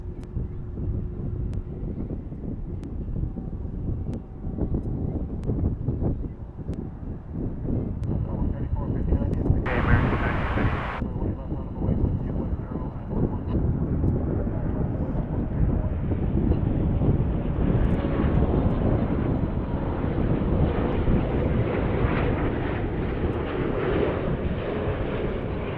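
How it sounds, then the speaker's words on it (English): A Boeing 747 airliner landing at DFW airport, its engine rumble and wind-buffeted roar steady and broad for the full length, with a brief louder gust midway; a voice talks over it at times. "That was one smooth landing"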